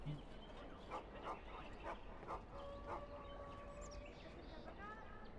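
A Mabari warhound barks in Dragon Age: Origins, a series of short, fairly quiet yelps and bow-wows spaced irregularly over a soft ambient game background, with a thin tonal whine partway through.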